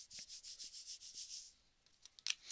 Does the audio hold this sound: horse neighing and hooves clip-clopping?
no